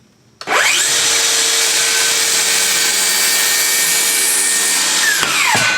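Circular saw spins up and cuts through a piece of wood, a loud steady whine lasting about five seconds before winding down at the end.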